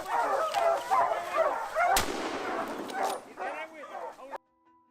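Hunting dogs bark repeatedly during a boar hunt in Alberta, a rough chorus of barks at middle distance with a sharp bang-like impact partway through, ending abruptly.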